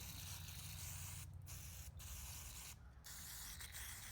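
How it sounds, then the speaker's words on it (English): An aerosol can of carburetor cleaner sprays in a long continuous hiss with a few brief pauses, close and steady, while a small 212 engine is built. "It's about time to grab another can of the discount carb cleaner here."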